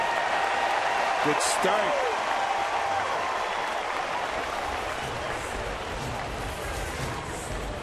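Crowd at Safeco Field in Seattle during a Mariners baseball game, a broad wash of applause and cheering that swells early and then settles into a steady murmur, with a commentator talking over it.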